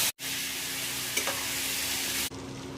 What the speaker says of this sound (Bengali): কড়াতে আমি বেশ কিছুটা সর্ষের তেলটা গরম হয়ে গেলে এবার আমি দেবো ফোড়ন, কাঁচা লঙ্কা, এতে আমি দিয়ে দেবো গুঁড়ো মশলা